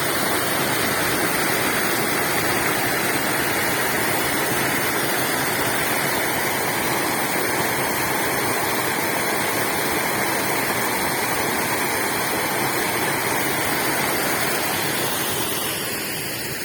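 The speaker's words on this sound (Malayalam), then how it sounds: "ഇങ്ങനെ വെള്ളം ഒഴുകുന്നുണ്ട് നല്ലോണം" Strong water flows over a waterfall in a cool outdoor spot, a loud, continuous broadband roar and rush that holds steady throughout.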